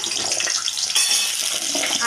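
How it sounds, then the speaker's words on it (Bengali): Sliced potatoes lightly fry in a pan for a ridge gourd and potato posto dish, making a soft, continuous bright sizzling hiss with small crackling bursts. "আলুগুলোকে আমি দিয়ে দিলাম, দিয়ে একটু হালকা ফ্রাই করে নিচ্ছি আমি"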